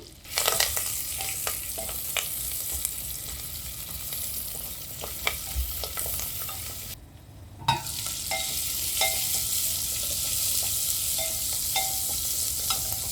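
Ingredients for coconut milk rice fry in a pan with a continuous loud sizzle and scattered stirring scrapes. The sizzle cuts out briefly midway, then resumes steadily. No speech.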